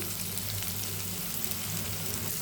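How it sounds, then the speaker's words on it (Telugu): Chopped onions and green chillies frying in a little oil, a soft, continuous sizzle and crackle held close and even throughout. "కట్ చేసుకొని కొంచెం నూనె వేసుకొని పచ్చిమిరపకాయలు కారంకి తగ్గట్టు వేసుకొని ఫ్రై చేసుకోవాలి"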